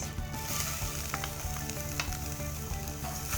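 Garlic and onion frying in a little oil in a pan, a steady close sizzle with light crackles and occasional stirring scrapes, no voices.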